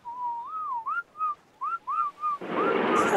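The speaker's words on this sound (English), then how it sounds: "Wait, you can whistle by pressing J." A player character in ARK Survival Evolved whistles a short, sliding, tuneful phrase of several rising and falling notes, clear and close, before a sudden burst of broad noise cuts in at the end.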